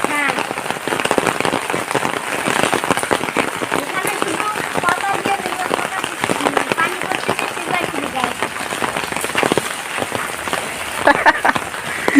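Steady rain falls on a rainy day, a dense, even patter that runs through the whole stretch while people talk over it nearby.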